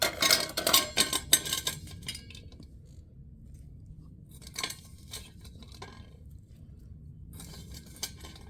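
Mango pieces tipped into a bowl for a karela, mango and lemon pickle, giving a cluster of clattering, clinking hits at the start, then a lone clink midway and a faint tap near the end, close and with no talk.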